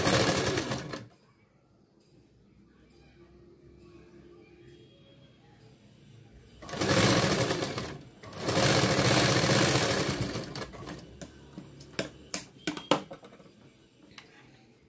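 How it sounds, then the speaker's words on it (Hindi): A sewing machine stitches a curved seam on princess-cut blouse fabric in short bursts, loud runs separated by pauses, followed by light ticking clicks near the end. "जैसे भी गोलाई में कटिंग करी है ऐसे ही हमको इसको सिलाई देनी है।"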